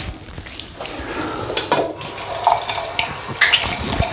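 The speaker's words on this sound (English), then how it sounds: "the blade rinses out well enough so it's not clogging up" Running tap water pours steadily into a sink while a Gillette Labs heated razor blade is rinsed under it, with a few brief splashes and clinks over the continuous flow.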